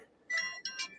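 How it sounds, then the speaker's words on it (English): A phone ringtone at a school open house chirps in two short melodic bursts, close and fairly clear over a faint room murmur. "I think your phone's ringing."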